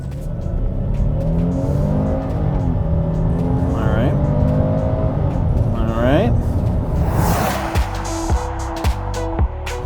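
A 2023 Hyundai Palisade with a 3.8-liter V6 revs hard during a brake boost: the engine note climbs in repeated sweeps, then settles into a loud, steady, rumbling idle with a pulsing rhythm near the end.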